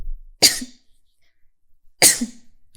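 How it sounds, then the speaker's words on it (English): Two sharp, explosive sneezes close by, each a short burst with a pause of over a second between them. "I want to sneeze."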